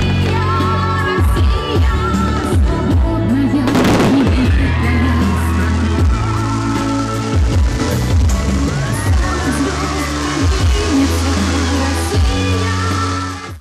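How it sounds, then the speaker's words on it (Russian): Large fireworks display closing a grand international festival in Derbent, Dagestan, with a dense, continuous roar of booming bursts and crackling throughout, loud and sustained, with faint crowd noise beneath. "Грандиозный и уникальный праздник завершился масштабным фейерверком."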